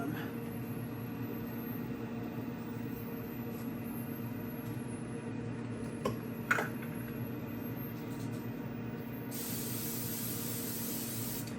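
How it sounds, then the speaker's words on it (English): Oil is sprayed from a can into a non-stick baking pan while chicken and biscuits are being made, a faint hiss amid kitchen background noise with a brief clatter near the middle. "I always spray something in there."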